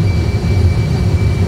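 Airliner jet engines roar steadily during the takeoff roll, heard from inside the cockpit as a loud, continuous low rumble with a faint high whine above it.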